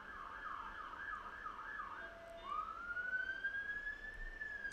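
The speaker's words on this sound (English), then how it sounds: "Sorry for the ambulance." An ambulance siren in The Escapists 2 video game wails faintly in the background, first a quick warbling yelp and then a long rising tone over a low steady hum.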